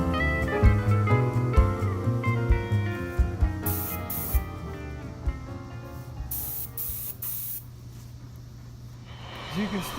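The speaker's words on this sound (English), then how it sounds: "it sprays a little bit more paint, because that's going to be basically my cap coat" A spray gun lays down a clear paint cap coat over glitter on a guitar, heard in bursts of airy hiss alongside music and some background talk.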